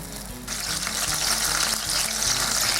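Duck breast sizzling and crackling in a hot pan, a dense hiss that jumps louder after a brief moment and holds steady.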